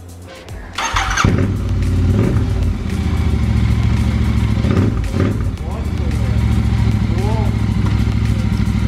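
Royal Enfield Interceptor 650 motorcycle fires up and runs with a loud, close, throbbing engine note, rising and dipping as it revs and shifts through gears, with people talking over it.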